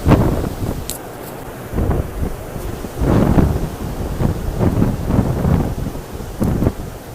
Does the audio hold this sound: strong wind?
yes